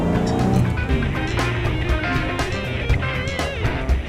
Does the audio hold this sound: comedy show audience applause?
no